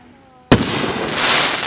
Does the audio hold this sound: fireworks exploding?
yes